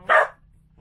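A single sharp bark from a dog inside an RV, loud and close, ending quickly and followed by quiet.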